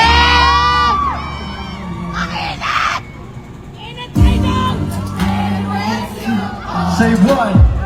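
Crowd at a solo concert in Singapore, screaming and cheering loudly in shrill bursts over music, with voices chattering close by.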